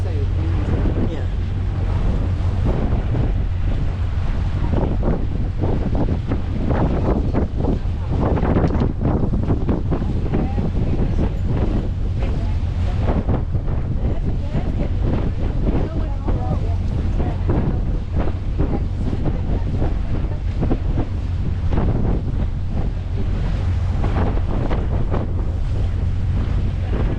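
Strong wind batters the microphone on a boat at sea, a loud constant roar with rumbling gusts and wave wash, voices faintly underneath.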